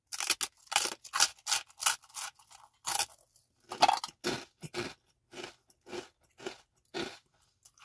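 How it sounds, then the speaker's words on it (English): Crisp front-teeth crunching of garlic herb crostini at close range, a rapid run of sharp bites followed by steadier, spaced crunches and chewing, with no talk. "we gotta do our messy front teeth crunch."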